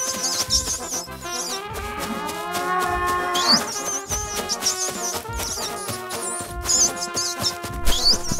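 Cartoon cow mooing in an animated comedy, drawn-out lowing calls rising over a busy, loud music score with crashes and effects throughout.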